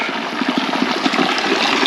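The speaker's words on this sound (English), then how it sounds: "You can see the hot water" Hot spring water gushing and splashing steadily at its source in Nubra Valley, Ladakh, a loud, close, continuous rushing flow with no pauses.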